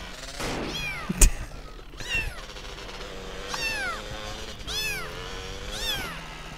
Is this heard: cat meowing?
yes